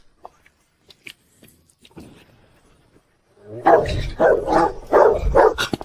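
Wolfdogs guarding a high red-brick compound wall topped with broken glass bark loudly and close by at night, in a rapid run of about five heavy barks after a few seconds of near silence with faint scattered ticks.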